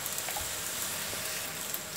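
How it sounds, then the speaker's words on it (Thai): Stir-fried drunken spaghetti with seafood, pork, chicken and shrimp hisses steadily in a pan, a dense, even sizzle with faint clinks from stirring, no voices. "ผัดทุกอย่างให้เข้ากันครับ"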